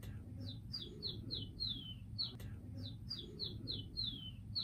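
A person whistles in imitation of birdsong, giving two repeated runs of quick, high, descending chirps over faint background noise.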